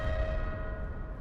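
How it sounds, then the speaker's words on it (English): A warning bell in the desert video game Dune Awakening signals an approaching sandstorm, one resonant ringing tone that fades over about a second. "So every time you hear that dong dong, it's the sound of the start of a sandstorm."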